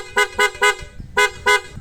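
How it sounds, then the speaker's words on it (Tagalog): A loud, high-pitched aftermarket horn on a Honda ADV160 scooter honks in a rapid pattern: three quick blasts, a brief pause, then two more, close by. "Loud horn with combo."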